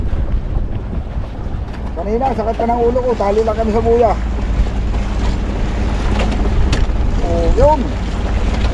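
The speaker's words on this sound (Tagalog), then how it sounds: "Sobrang lakas ng hangin." Strong wind blows across the microphone on a boat at sea, a constant heavy rumble with people talking over it and a couple of brief rising whistle-like tones.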